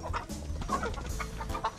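A chicken recovering from a severe cold clucks softly in short, repeated notes while eating, close by, with light background noise.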